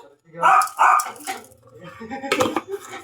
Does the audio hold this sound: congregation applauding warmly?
no